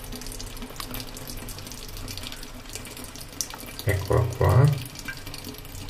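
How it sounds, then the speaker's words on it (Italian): Water runs from the hot tap in a home bathroom, a steady trickle with a louder gushing splash near the end, while a person speaks briefly. "ho aperto l'acqua calda"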